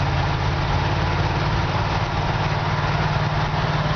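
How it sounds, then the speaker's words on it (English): A 1958 GMC 100 Apache Fleetside pickup with a Chevy 350 V8 and 350 Turbo automatic transmission, idling steadily with a deep, even, rumbling throb heard close up and alone. "Chevy 350 with a 350 turbo trans. Drives out with really good power."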